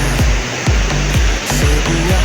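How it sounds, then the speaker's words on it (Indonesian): A steady, loud rush of the Kokoi waterfall fills the scene, constant and close, with a few faint rhythmic thumps underneath. "air terjun ya"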